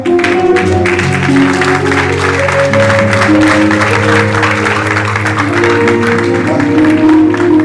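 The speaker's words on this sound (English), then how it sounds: "with a round of applause, help me welcome Professor" A round of applause welcoming a professor at a book launch, steady and sustained throughout at close range, with music playing underneath.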